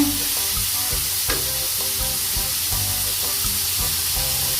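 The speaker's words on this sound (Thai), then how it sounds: "ใส่กระชายลงไปเลยนะคะกระชายลงไปผัดเลยค่ะ ให้กระชายหอมๆให้หมูหอมๆไปเรื่อย ๆ ค่ะ" Minced pork and fingerroot stir-fried in a pan for a spicy Thai pork dish, giving a steady close sizzle throughout with repeated scraping stirs and clatter of the spatula, no voices.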